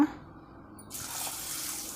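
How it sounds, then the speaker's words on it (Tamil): Water starts gushing from a tap after a brief pause and splashes steadily into a container of ragi grain being washed, close by and fairly loud. "இதை வந்து நல்லா தண்ணி ஊற்றி நல்லா வந்து கழுவி எடுத்துக்கலாங்க"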